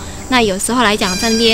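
A black bird with a red bill and red legs on a Taiwanese forest trail gives a few close, loud, wavering meow-like calls that imitate a cat, while someone speaks over them.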